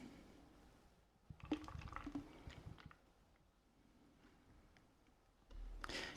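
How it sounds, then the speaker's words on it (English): Guinness stout is poured into an old Starbucks tumbler, a soft gurgling, splashing flow for over a second before it tapers off. A second quiet burst of liquid comes near the end, all faint and close. "So let's get this poured to have with our meal."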